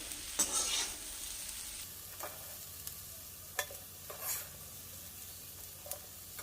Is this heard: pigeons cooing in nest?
no